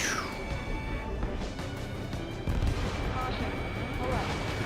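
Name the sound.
gunfire and missiles in Ace Combat 7 video game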